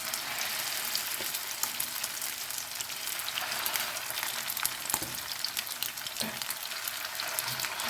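Steady, dense sizzle of meat patties (kotlety) frying in a hot pan, with crackling pops throughout and no talking.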